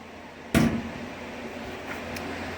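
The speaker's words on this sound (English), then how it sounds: "So let's go ahead and close the door again." A door on a Simplex 4010 fire alarm control panel swings shut with a single close thud, followed by a faint click a moment later in an otherwise quiet room.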